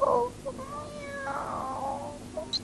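A distressed cartoon cat in a German children's animation gives a drawn-out, wavering meow, loud and close, with short cries at the start and end.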